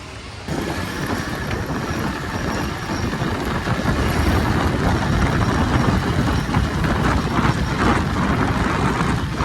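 A vehicle's engine starts up as it drives off, becoming a continuous, fairly loud low rumble after a brief quiet moment and staying steady to the end.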